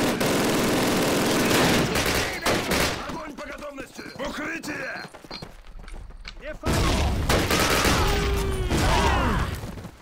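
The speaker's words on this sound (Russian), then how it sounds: "Так скажем, пулемет" Machine gun fire rattles in dense, loud bursts in a Call of Duty battle, with a pause of scattered shots and thuds mid-way before heavy sustained firing resumes.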